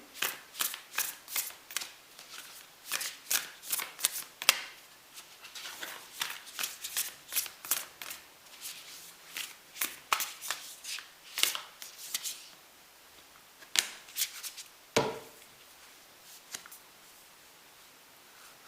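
Oracle cards being shuffled by hand in a quiet room, a long run of crisp, rapid riffling bursts in an irregular rhythm, close and fairly soft, with brief pauses and one louder thump near the end.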